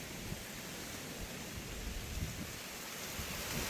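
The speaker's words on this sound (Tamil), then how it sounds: "இப்போ காற்றும் வந்து நல்லா அடித்து கொண்டிருக்கு" Steady broadband wind rushing across an open rice field, a constant airy roar with slight gusts and no voices.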